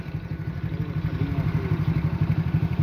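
Heavily overloaded motorcycle running close by, its engine chugging in a fast, steady pulsing rhythm throughout with a faint rattle on top and no talk.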